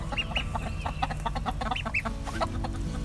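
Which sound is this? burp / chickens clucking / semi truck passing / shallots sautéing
chickens clucking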